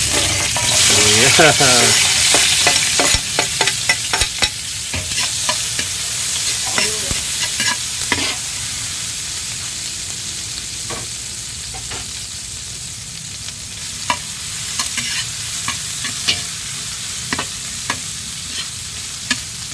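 Chili, onion, tomato and ginger sautéing in a little hot oil, a loud sizzle at first that settles into steady frying, with repeated sharp clinks and scrapes of a utensil stirring in the pan.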